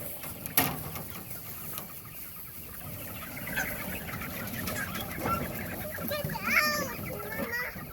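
Around 75 pastured chickens crowded in a 10 by 12 foot pen cluck and squawk steadily in a busy flock chorus, with a few louder calls standing out and a voice talking over them.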